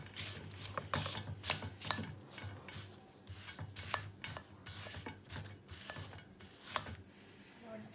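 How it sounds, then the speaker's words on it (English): Spoon scraping and crushing hard pieces of caramel cashew crunch, a series of irregular dry crunches and rubbing scrapes close up, with no talking. "Crush this a little with the spoon because it's too hard and it's jumping out."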